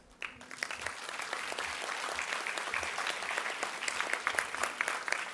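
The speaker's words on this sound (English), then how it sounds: "You can clap for yourselves." Graduates at an Asia Pacific University ceremony break into sustained clapping that starts abruptly and holds a dense, even roar across a large hall.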